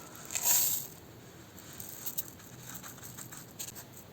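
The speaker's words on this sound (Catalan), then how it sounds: "Segon pas, omplir de sal" Salt poured into a toilet paper roll at a tabletop karst landscape model with aquarium pebbles, a brief soft grainy patter near the start, then faint scattered trickles and light taps.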